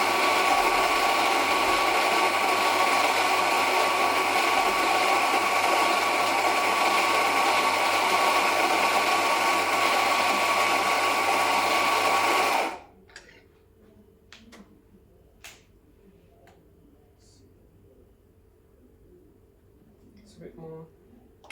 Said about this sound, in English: this button engages the motor. So it'll take about 15 seconds to grind the double shot quantity